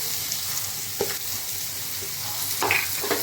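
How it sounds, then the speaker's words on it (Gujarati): Sliced onions sautéing in hot oil with asafoetida and turmeric for a Gujarati sev dungri shaak, a soft steady sizzle broken by occasional spoon scrapes, the clearest near the end, no voices. "સરસ ગોલ્ડન કલરની થાય ત્યાં સુધી આપણે ડુંગળીને સાતળવાની છે આમાં."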